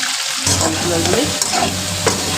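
Potato and peas curry stirred in a pan, with loud close scraping and sloshing strokes over a continuous sizzle and a low steady hum beneath.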